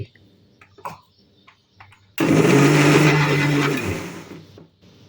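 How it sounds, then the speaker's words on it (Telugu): Mixer grinder blending dosa batter with two tablespoons of added water, a loud steady whirring motor that starts abruptly partway through, runs for about two seconds and winds down, preceded by faint kitchen clatter. "రెండు టేబుల్ స్పూన్ల నీళ్లు వేసి మరొకసారి మెత్తగా మిక్సీ చేసుకోవాలి"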